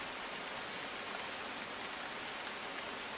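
Steady rain pours down over Ahmedabad streets, a dense even hiss of drops with no pauses, loud and close throughout.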